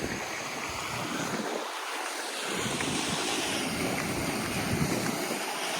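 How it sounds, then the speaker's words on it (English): A steady broadband wash of flowing creek water beside a house with a canal, continuous and fairly close, mixed with gusty wind noise on the microphone. "It's like a little creek in here."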